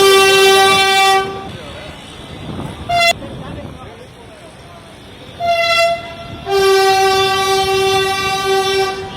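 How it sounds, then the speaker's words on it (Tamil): A metro train on a trial run between Porur and Vadapalani in Chennai sounds loud, long horn blasts, with a rumbling train passing between them and a voice speaking underneath. "சென்னை போரூர் வடபழனி இடையே 7 கிலோமீட்டர் தூரத்திற்கு மெட்ரோ ரயில் சோதனை ஓட்டம்."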